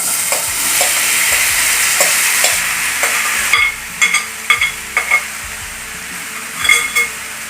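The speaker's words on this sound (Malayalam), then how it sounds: "രണ്ട് ടേബിൾ സ്പൂണ് നമ്മുടെ സൺഫ്ലവർ ഓയിൽ ഒഴിച്ചു കൊടുക്കാം നമ്മൾ ഈ കറി കൂട്ടി വെച്ചിട്ടില്ലേ അത് അതിലേക്ക് ഇട്ട് കൊടുക്കണം" Chole curry sizzling and frying in sunflower oil in a pan, with a steady hiss and repeated scraping clanks of a spoon stirring, close and fairly loud.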